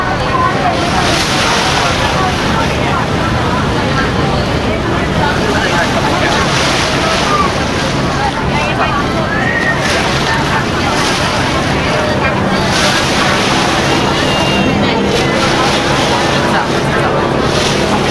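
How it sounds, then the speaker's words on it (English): Ride aboard a green and white ferry on the water in Hong Kong: constant rushing wash of waves and heavy wind buffeting the microphone, with a broad roar that fills the whole stretch and faint voices underneath. "there you see a green and white ferry just like the one we're on"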